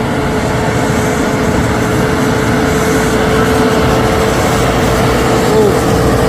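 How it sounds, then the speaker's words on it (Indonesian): A tanker truck engine climbs a hill road, a steady loud drone with rumbling mechanical noise that stays close and constant throughout, with no talking over it. "Truk tangki Puto Victor X."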